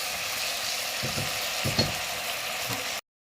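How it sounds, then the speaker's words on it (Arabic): Duck pieces sautéing with a spice mixture in a pot at home, a steady close sizzle with a few louder stirring scrapes and clinks; no one speaks. "هسيبها بقى تتشوح شويه مع بعضها كده"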